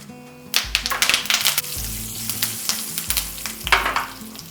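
Mustard seeds, fenugreek, dried chillies and curry leaves sizzling in hot oil give loud, dense bursts of crackling and popping close up, with a low steady hum underneath and no voices.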